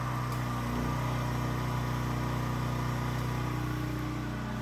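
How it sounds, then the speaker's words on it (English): A Predator 8750 portable generator runs steadily under an electric kettle load, a constant close engine drone with strong low hum and no change in pace throughout. "observe the sound the generator will make"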